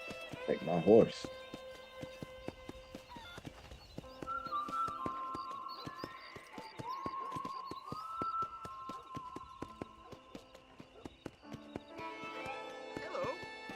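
Horse hooves clip-clop in a rhythmic patter in Red Dead Redemption, set under game music and ambient sounds.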